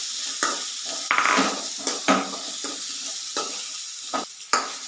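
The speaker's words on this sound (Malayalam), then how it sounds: "ഇതൊന്ന് ചുവന്ന് വരുന്നത് വരെ ഒന്ന് വഴറ്റി കൊടുക്കാം" Small onions sautéing in a pan for a curry, a steady close sizzle with repeated scraping stirs of a utensil against the pan.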